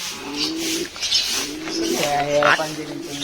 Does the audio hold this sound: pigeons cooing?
yes